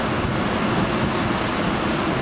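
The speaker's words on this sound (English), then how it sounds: "These are waves crashing up here on the bay." Heavy surf from Hurricane Irene pounds the shore of the bay at Colleran Park in Massapequa, New York, a dense, continuous roar of crashing waves mixed with gusting wind buffeting the microphone, loud and steady throughout.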